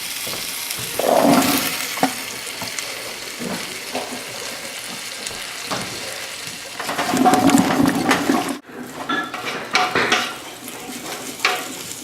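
Water pours into a large pot of curry aloo gobi with potatoes and chickpeas, a loud sloshing rush that swells midway, cuts off, then continues with splashing and clatter of the pot.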